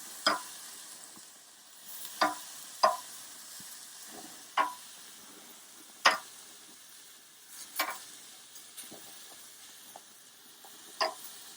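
Chicken of the woods mushrooms frying in a pan, a soft continuous sizzle punctuated by about ten sharp spattering pops spaced a second or so apart, close and without talk.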